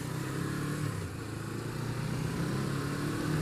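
Motorcycle pulling out onto a road, with a steady close engine drone that rises gently as it gets moving, heard continuously with no talking.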